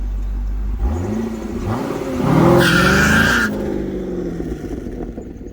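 A C6 Corvette makes a hard launch: engine revs rise, then a loud tire squeal and skid flares for about a second before the car pulls away with fading engine noise, nobody talking.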